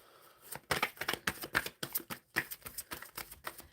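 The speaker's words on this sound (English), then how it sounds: "let's go ahead and get shuffling for that overall energy for the Taurus Collective" Tarot cards are shuffled in quick, crisp riffling bursts, a rapid run of papery snaps and flutters repeating close to the microphone with no talking.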